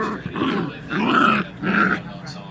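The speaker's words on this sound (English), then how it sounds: "This dog is aggressive." A puppy growls aggressively in three close, loud bursts, each a throaty snarl separated by brief pauses.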